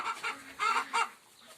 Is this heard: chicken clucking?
yes